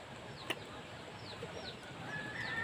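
Hens cluck in a backyard coop, their soft calls faint and scattered over a steady rustling background, with one sharper click early on.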